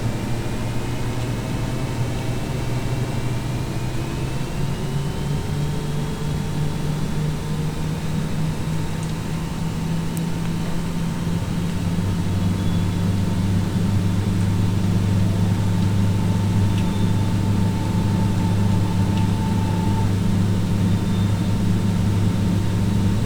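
Engines of an MD-83 airliner spooling up for takeoff in the FSX flight simulator, a steady roaring drone with rising whine and low rumble, continuous and fairly loud, with no talking.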